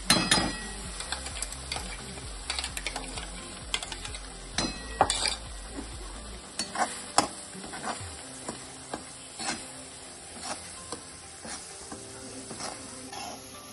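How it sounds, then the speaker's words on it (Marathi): Masala paste for chana masala fries in hot oil, giving a steady sizzle broken by repeated scrapes and clinks of a spoon stirring the pan, with no talking. "पूर्ण पेस्ट व्यवस्थित टाकून घ्यायची आणि छान फ्राय करून घ्यायची"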